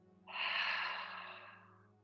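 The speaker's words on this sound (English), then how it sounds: "One deep inhale through your nose and exhale through the mouth." A single deep exhale through the mouth during a vinyasa yoga session, a soft breathy rush that swells quickly and slowly fades over about a second and a half, heard close and alone over a faint steady hum.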